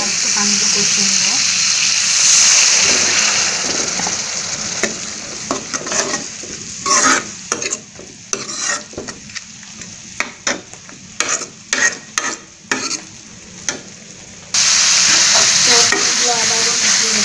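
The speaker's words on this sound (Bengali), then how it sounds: "কষানো হয়ে গেছে, আর একটু পানি দিয়ে কষিয়ে নেব।" Dried fish (shutki) masala sizzles loudly in a pan with a little water as it is stir-fried, with repeated scraping stirs and spoon knocks breaking up the steady hiss, which fades briefly mid-way before surging back.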